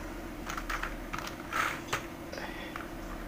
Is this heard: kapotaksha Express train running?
no